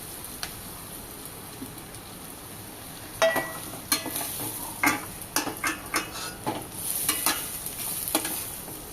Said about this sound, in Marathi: त्याच्यानंतर आपण ही उकडलेली बटाटे घालूया।